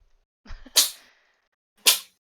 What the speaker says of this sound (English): Aw, cat sneeze.